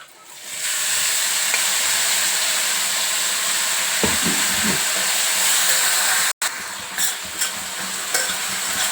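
Soaked moong dal fries in a kadai with spinach, turmeric and curry leaves. The hissing sizzle is loud and steady, broken by stirring scrapes and a momentary cut partway through. No one speaks.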